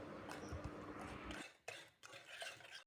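A spoon stirs gulkand into rose kheer in a pot, giving soft scraping and clinking strokes that are close and fairly quiet, in a few short uneven bursts.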